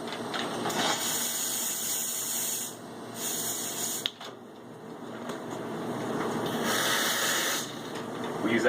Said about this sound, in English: You have your steam wand here.